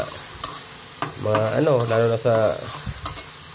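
Onion and garlic sauté in a hot pan, a bright sizzle broken by several scraping stirs at close range. No talk can be heard.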